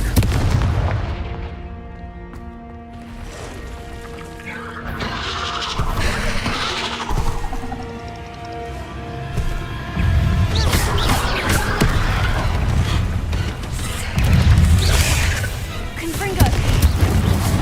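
Confringo spell blasts in the Hogwarts Legacy video game, repeated booming explosions with crackling debris and loud impacts over a sustained battle, mixed with a voice and shifting game effects throughout.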